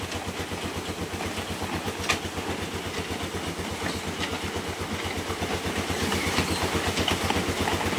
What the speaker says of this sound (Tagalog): Umiikot yung 8 bulmila natin